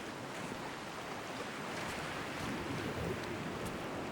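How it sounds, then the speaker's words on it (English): Wind and ocean waves from the game Dear Esther, a steady broadband wash of surf and gusting air that holds even and fairly loud throughout, with no voices. "Sound of the wind and the waves."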